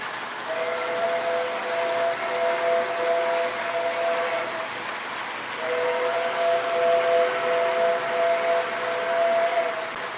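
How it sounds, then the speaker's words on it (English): A Mickey Mouse 100-year anniversary train rumbles steadily past, sounding two long horn blasts separated by a short break, with no one talking. "That Mickey Mouse 100 year anniversary train sure looks sharp."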